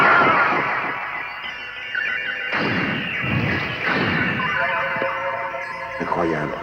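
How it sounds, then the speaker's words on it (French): Explosive crashes and thuds from armor being blasted apart in the Saint Seiya Soldiers' Soul video game, several bursts a few seconds apart over a background of game effects, with voices speaking. "Il l'a fait exploser d'un seul geste."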